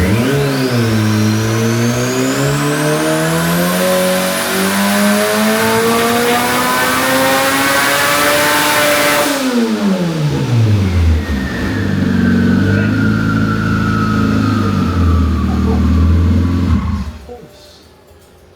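A turbocharged K20 engine on a dyno revs up in one long climbing pull to a high scream, drops, climbs again more briefly and then winds down, very loud and close.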